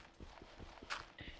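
Horse hooves clip-clopping in a kingdom-building video game, a short run of evenly spaced soft thuds at close range with a brief brighter click near the end.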